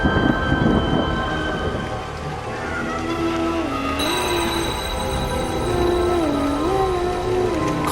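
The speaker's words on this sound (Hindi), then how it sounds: "तभी आसमान में एक जोरदार बिजली तड़की" A thunderstorm at night, with heavy rain hissing steadily and a continuous low rumble of thunder, joined by eerie, wavering tones.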